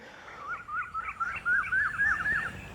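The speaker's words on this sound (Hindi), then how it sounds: "कोयल की आवाज़ एक नहीं, बहुत ज़्यादा कोयलें बोल रही हैं।" Several Asian koels call repeatedly in a desert pomegranate orchard, their rising whistled notes running in a quick series over steady background noise, with no talking.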